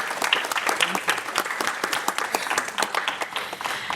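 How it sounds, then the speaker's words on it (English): Steady audience applause fills a public brain science talk after a panel discussion, dense clapping from many hands held at an even level throughout, with no voices standing out. "So let's give them a round of applause."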